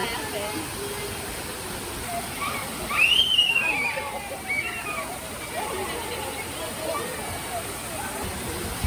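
A zoo waterfall at ZooTampa at Lowry Park in Tampa gives a steady, close rushing wash of water throughout, with a brief brighter splash midway and people talking faintly nearby.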